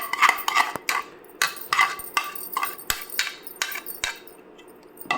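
A metal spoon scrapes and clinks against an oiled pan while masala is mixed for paneer dum biryani, a steady run of quick tapping strikes and scraping, fairly close and moderately quiet.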